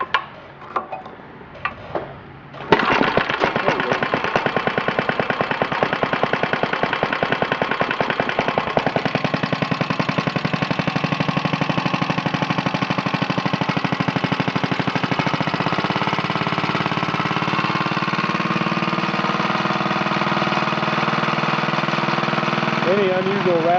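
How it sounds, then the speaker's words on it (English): A 1950 Briggs & Stratton 6S small engine clamped to a table catches after a few pull attempts, then idles steadily and loudly with a fast, rattling chug that slowly eases toward a lower idle. "Any unusual rattling you hear is just because it's clamped to a table"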